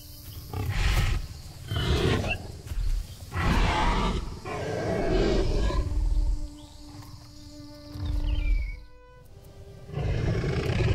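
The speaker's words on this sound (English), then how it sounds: "They snarl over a small decaying piece of carrion," Troodon and a weakened dromaeosaur snarling over a small piece of decaying carrion, with repeated deep guttural growls and roaring bursts close up, broken by brief pauses and softer rasping snarls.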